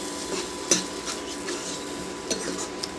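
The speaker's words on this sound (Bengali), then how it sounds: "দিয়ে ভালো করে নেড়ে দিলাম" Potato and pea curry being stirred in a pan, a few soft scraping strokes and light utensil clinks over a faint sizzle, close by.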